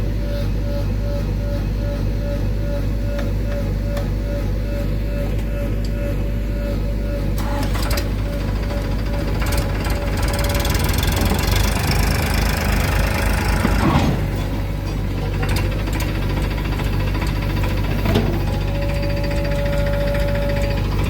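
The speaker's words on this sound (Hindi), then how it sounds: "गाइस ट्रैक्टर तो निकल गया है अपनी जगह से।" A tractor stuck in a muddy field running its engine hard to pull free, a loud, steady, throbbing diesel drone that surges in the middle, with rattling and clanking over it and no voices.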